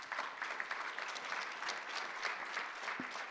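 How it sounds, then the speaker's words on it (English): Audience applause for the panelists at the close of a Smart City Expo panel on cities using data and AI against extreme weather: steady, sustained clapping from a crowd, fairly soft and even throughout with no voices over it. "Let's give them a round of applause."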